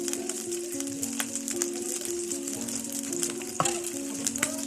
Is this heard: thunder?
no